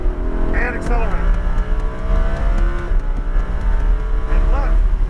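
Lamborghini Huracan accelerating hard on a track, its engine note climbing steadily and loudly beneath an instructor's spoken coaching, with traces of tyre noise throughout.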